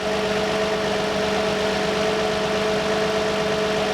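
A car engine idles steadily during a head gasket leak test, a constant close drone with a faint tonal hum and slight vibration, unbroken and with no talk.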